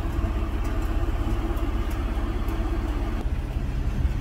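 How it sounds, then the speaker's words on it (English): A 2019 Nissan Maxima SL engine idles steadily with a low, continuous rumble, close and loud, and nothing else stands out. "sorry for the noise. The car is still running."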